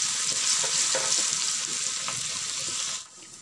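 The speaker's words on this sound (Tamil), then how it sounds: "இதை வந்து நல்லா தாளிச்சுக்கொள்ள வேணும்" Cinnamon pieces sizzle steadily as they temper in hot oil for a Sri Lankan dish, a close, dense crackle with faint stirring that drops away sharply near the end.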